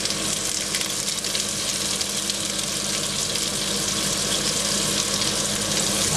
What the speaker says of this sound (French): on dépose les noix de Saint-Jacques bien droites